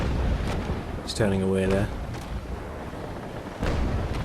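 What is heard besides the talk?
ship cannon fire in Naval Action video game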